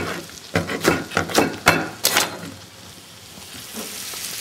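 Vegetables for matbukha stew and sizzle in a frying pan, a close steady sizzle punctuated by several sharp clacks and scrapes of stirring early on, then settling into a softer continuous hiss.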